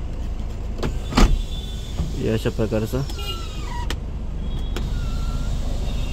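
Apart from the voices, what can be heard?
car sunroof opening with electric motor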